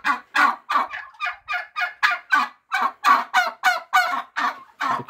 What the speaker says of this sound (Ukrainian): Гарні індики.